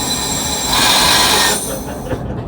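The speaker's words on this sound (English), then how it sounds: "now going downhill, so you can feel the train speeding up a wee bit" Heritage train running downhill on the Dufftown to Keith railway line, heard from the cab as a steady loud rumble and hiss of wheels on track, with a brief rise in intensity midway.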